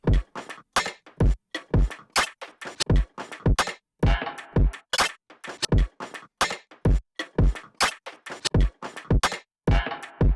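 A punchy percussive beat built from recorded kitchen-object hits and clatters, repeating in a steady loop with sharp, close transients and no voices.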